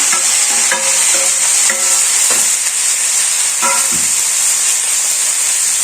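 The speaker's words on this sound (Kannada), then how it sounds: "ಇವಾಗ ಟೊಮೊಟೊ ಮತ್ತು ಕೊತ್ತಂಬರಿ ಸೊಪ್ಪು ಎರಡು ಹಾಕಿದ್ದೀವಿ. ಇದೆರಡನ್ನೂ ಚೆನ್ನಾಗಿ ಫ್ರೈ ಮಾಡ್ಕೊಬೇಕು" Tomato and coriander leaves frying with onion in a pan, a steady loud sizzle with hiss throughout, broken by several scraping stirs of a spatula at irregular intervals.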